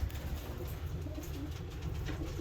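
Low, steady cooing from a young racing pigeon at close range, a continuous soft throaty murmur with no talk over it.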